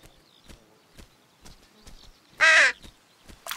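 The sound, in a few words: crows cawing in children's cartoon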